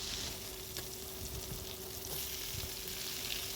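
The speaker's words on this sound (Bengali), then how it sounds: "এই যে কলার খোসাগুলো সব ভালোভাবে ভেজে নেব" Raw banana peels fry in a pan with a faint, even sizzle that holds steady throughout, close by and quiet, with no voices.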